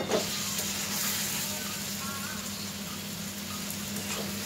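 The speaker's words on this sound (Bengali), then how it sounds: "এবার এঁচোড়টা সিদ্ধ করা এঁচোড়টা দেবো" Boiled jackfruit goes into a pan of frying potatoes, and a soft, even sizzle of hot oil continues quietly throughout, with faint scraping of stirring.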